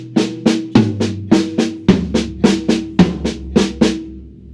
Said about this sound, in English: We're going to go to another tom on each one of those hits